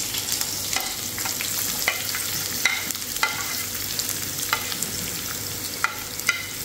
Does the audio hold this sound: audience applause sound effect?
no